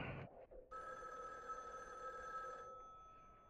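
A telephone rings steadily in the 1974 horror film Black Christmas, a continuous electric bell trill sustained for about two seconds before cutting off, heard alone at moderate level without any talk.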